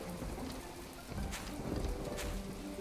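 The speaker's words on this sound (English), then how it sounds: "But I gotta say, the rain is pretty nice." Soft, steady rainfall patters in the crafting game My Time At Portia, a faint, even wash of drops with no talking over it.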